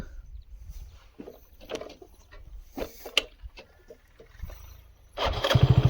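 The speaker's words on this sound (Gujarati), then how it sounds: "એટલે ગાડીને ચાલુ કરી નાખી" A motorcycle engine cranks and catches near the end, idling with a steady low throb after a stretch of quiet outdoor clatter in a sesame field.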